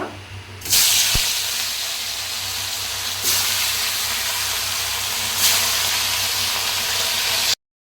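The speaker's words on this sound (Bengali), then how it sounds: "তেলটা গরম হয়ে গেছে এবার আমি মাছগুলো লাল লাল করে ভেজে নেব" Tilapia pieces hit hot oil in a home kitchen pan and fry with a loud, steady hiss and sizzle that swells at the start and surges again twice, close and continuous with no talking.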